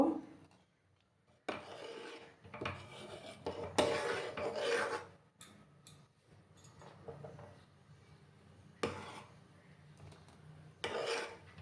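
Rice kheer being stirred continuously in a pan, a rasping scrape of the spoon against the pan bottom in repeated strokes with brief pauses, moderately loud and close with no talk.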